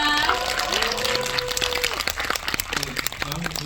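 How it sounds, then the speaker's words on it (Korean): A cinema audience claps during a stage greeting for the film Phantom in a CGV IMAX theater in Incheon. The clapping is a thick wash at first, thinning into scattered claps, with voices speaking through it. "큰 박수 좀 부탁드려요"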